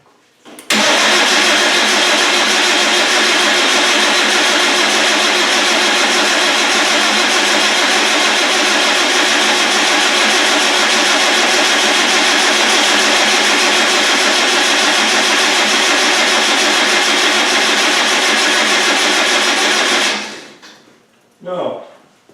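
A Land Rover 300Tdi diesel engine, freshly rebuilt and short of fuel, cranks on the starter for about twenty seconds without catching. It is a loud, steady whirring drone that cuts off abruptly, followed by a brief clunk.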